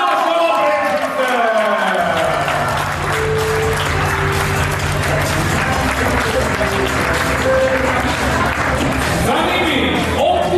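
An indoor audience at a school First Lego League robotics event gives sustained, loud applause for a team of schoolchildren, with steady dense clapping and crowd noise throughout.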